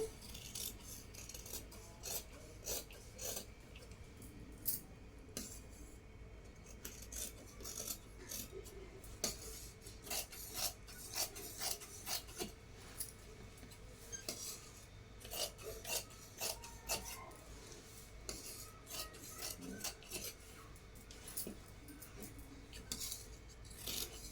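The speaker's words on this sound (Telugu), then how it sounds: "ఇప్పుడు వచ్చేసి నేను కటింగ్ అయితే చేస్తున్నాను ఇక్కడ నెక్కు దగ్గర నుంచి కటింగ్ అయితే చేస్తున్నాను" Scissors cut blouse fabric starting at the neckline, giving a steady run of rasping, crunchy snips that repeat in quick irregular bursts, close and fairly quiet, with no talking.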